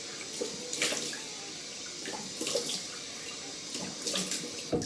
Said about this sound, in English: Cold water, rinse, of course.